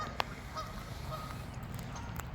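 Canada geese on a creek, a single sharp honk near the start followed by faint, distant calls over a steady outdoor hum.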